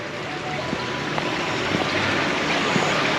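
Stream water flows beside a rural hanok village house in Seongju County, South Korea, making a steady, close, continuous rushing wash with no voices.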